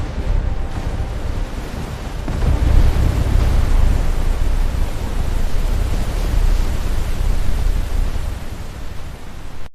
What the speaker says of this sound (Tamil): மழை பெய்யத் தொடங்கியது.